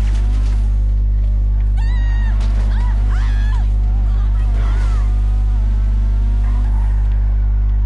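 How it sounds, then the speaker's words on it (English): A cat meows repeatedly in the GTA 5 video game, rising wails over a steady low engine hum from a car, with a game soundtrack underneath and a voice speaking intermittently. "Never catch up with me, you little shitty cat."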